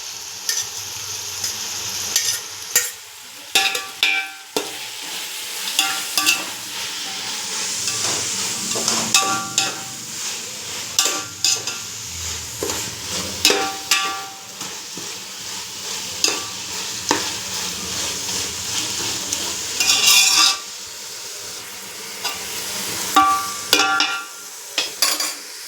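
Mint and coriander leaves stirred and fried with ginger garlic paste for chicken biryani, with a steady sizzle, repeated scraping strokes of a spoon against the pan and occasional clinks of cookware, close and continuous.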